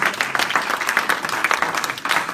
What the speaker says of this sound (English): If you are blessed, clap well for Jesus.